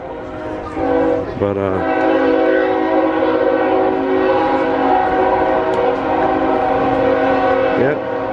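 A train passes beside festival rides near the tracks at the International Rice Festival, its horn blaring long and loud up close over the rumble of the cars, with a voice briefly heard.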